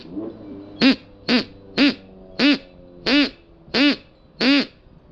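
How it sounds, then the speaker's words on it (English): A handmade wooden duck call turned from SpectraPly wood, blown in seven separate short quacking blasts at a steady, slightly uneven rhythm, loud and close with no talk. "the duck call is done. Let me make the sound for you."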